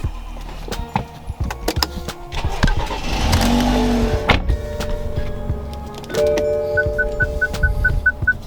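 A car being started and moved, with clunks and door or window motor whirs, a surge of engine rumble, then a rising whine and a series of evenly repeated electronic beeps near the end, fairly loud and close.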